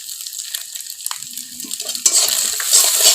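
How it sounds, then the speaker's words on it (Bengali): An egg lightly frying in a pan with turmeric and salt, a soft steady sizzle that grows louder and brighter partway through as it is stirred, with faint scraping. "ডিমটা একটু হালকাভাবে ভেজে নেব"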